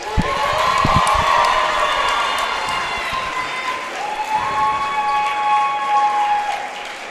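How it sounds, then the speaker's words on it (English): A crowd applauds and cheers for a senior player at a high school senior night game, loud clapping mixed with shouts and whistles that gradually thin out while a voice over the sound system continues. "Let's give another round of applause for Grace."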